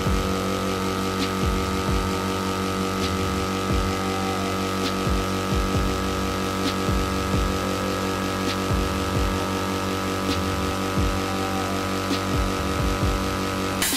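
A Browynn 24-liter air compressor runs steadily at speed, a loud constant motor hum with regular mechanical ticks and knocks repeating throughout, with no talk.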